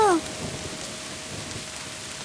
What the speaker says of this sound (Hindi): अरे बट्टो, इतनी बारिश में तुम यहाँ कैसे?